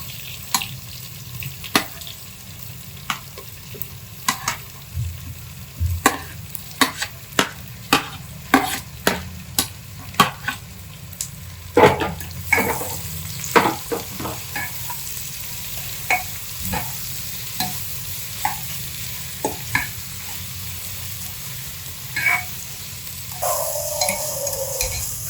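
Onions frying in a pan with ginger and garlic for a mutton curry, sizzling loudly and steadily while a spatula clacks and scrapes in frequent sharp strokes, close up and free of speech.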